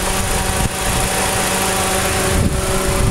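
The 1.8 liter four-cylinder engine of a 2009 Toyota Corolla runs steadily at idle, a constant humming drone with a faint high whine, close by.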